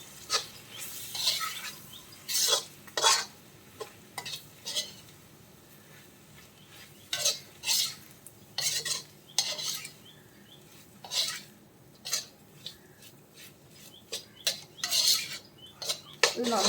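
Buffalo meat and masala being stirred in a metal pan, a spoon clattering and scraping in irregular bursts of sharp close clinks with short quiet gaps, no voices.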